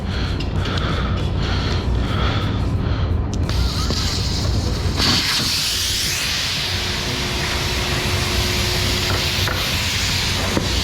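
Air rushes out of a car tire once its Schrader valve core is removed, a loud steady hiss heard close up. The tone shifts partway through, with some handling noise early on.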